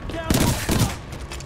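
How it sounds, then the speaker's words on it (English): Hemlock three-round burst rifle firing in Titanfall 2, two close, loud bursts of rapid shots a fraction of a second apart amid game noise, with some speech underneath. "Hemlock, this is the 3-burst gun, I believe."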